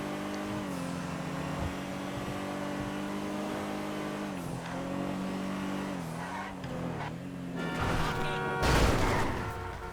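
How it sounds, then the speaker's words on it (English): Car crash in a GTA-style video game, a Honda Accord against a Ferrari: a continuous droning engine hum with shifting revs, ending in a loud burst of smashing impact noise near the close. "Honda versus Ferrari. Crash. Ferrari will always lose."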